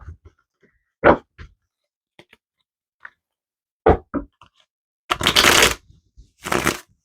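Tarot cards being handled and shuffled, quick papery riffles and taps in short separate bursts, ending in two longer, louder shuffling rushes, close with no talk.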